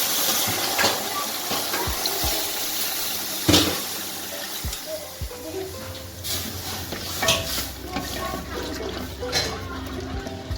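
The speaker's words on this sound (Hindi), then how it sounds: "अब इसमें पानी ऐड कर देंगे हम।" Water poured into roasted semolina in a pan for sweet suji halwa, a steady rushing, bubbling pour with scattered spoon knocks, close and continuous.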